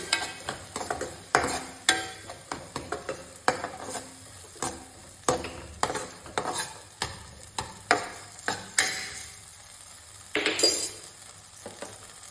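Chopped onion and tomato stirred in a frying pan for Kathiyawadi vaghareli khichdi, a spoon scraping and clinking against the metal in a steady rhythm of sharp strokes over a soft sizzle, close and alone.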